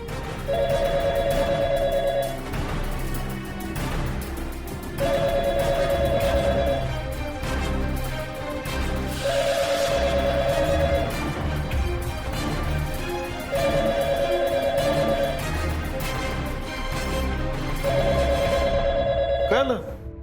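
A phone ringtone repeats five times at regular intervals over constant background music and voices.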